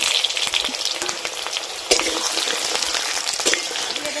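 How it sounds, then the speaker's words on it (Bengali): Three large potatoes cut into chunks fry in hot oil for a vegetarian dhoka curry, giving a loud, continuous crackling sizzle with a brief sharp pop partway through. "আলুগুলো ভালো করে ভেজে নেব।"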